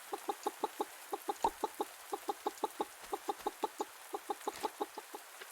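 A chicken in the Pumpkin Days farming game clucks in a fast, steady run of evenly spaced short clucks over a faint background hiss, with no one talking.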